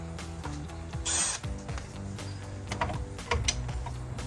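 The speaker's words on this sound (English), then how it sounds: "we need to switch back over to our 10 mil socket" A socket wrench with a 10 mm socket ratchets on a bolt during a cold air intake install on a RAM 1500, giving quiet, close clicking and mechanical ticks in an uneven rhythm amid low background hum.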